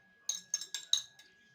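Metal spoons clink against a bowl as sugar is added while mixing rusk dough, giving four or five sharp, close taps in quick succession with no talking.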